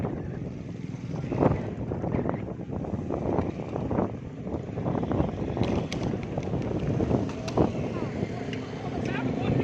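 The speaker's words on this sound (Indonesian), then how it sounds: "Angin besar sekitar Pondok Ungu Permai" Strong storm wind with rain roars and buffets the microphone in a steady, heavy rush, with gusts swelling and someone talking over it.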